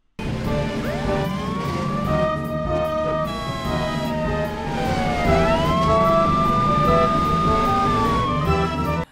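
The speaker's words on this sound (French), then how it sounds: "le volume de la sirène de police va augmenter quand la voiture est proche" A police siren wails in rising and falling sweeps, loud and steady, with pitch shifts as the vehicle passes close by.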